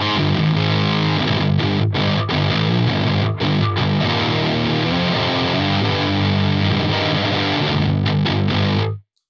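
Heavily distorted seven-string electric guitar driven through an EQD Palisades overdrive stacked with a Kraken distortion, playing loud, dense, sustained riffs with brief chugging gaps before cutting off abruptly at the end.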